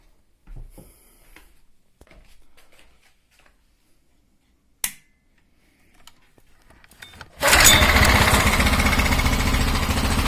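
A Briggs & Stratton 500 series lawn mower engine fitted to a boat motor catches after some quiet handling clicks, then runs loudly and steadily to the end.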